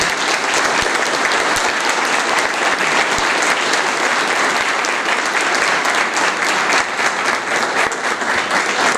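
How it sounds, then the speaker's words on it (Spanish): Strong applause from an audience honoring students at a community geography forum, a dense, continuous wash of clapping that stays loud and even for the whole stretch with no talk over it. "a quienes les brindamos un fuerte aplauso porque fue mucho trabajo"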